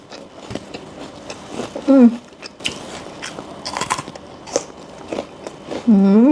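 Crunchy fresh dates are bitten and chewed close to the mic, with crisp cracks and wet munching in uneven bursts and a couple of murmured hums between bites.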